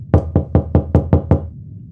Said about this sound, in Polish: głośne pukanie przerwało ciszę.